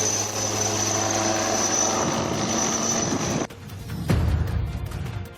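An air force helicopter idles in a farm field after an emergency landing, its rotor and engine droning steadily before cutting off abruptly, followed by a short thump and lighter mechanical noise.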